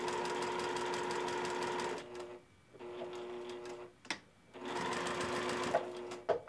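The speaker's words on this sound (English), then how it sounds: "When you get to the end, just sew directly to the line and then backstitch." Sewing machine stitching a quilt border and backstitching at the end, a fast steady mechanical whir in two bursts separated by a short pause with faint clicks, close and fairly quiet.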